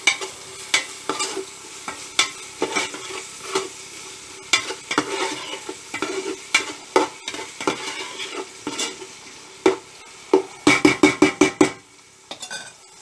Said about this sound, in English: You can add the salt while frying the onions if you want.